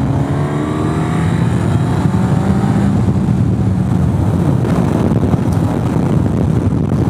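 A 2023 Suzuki GSX-S1000GT sport-touring motorcycle engine revs while riding, a loud, continuous roar that rises in pitch, with heavy wind rush throughout.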